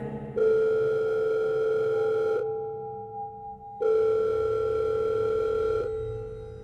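A telephone rings in two long electronic tones separated by a short pause, clear and close, with no talking.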